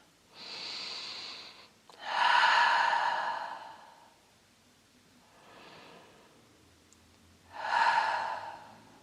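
Slow, deep yoga breathing during a yin full-body stretch: four long breath sounds, each an inhale or exhale lasting a second or two, close and clear in a quiet room, the third softer than the rest.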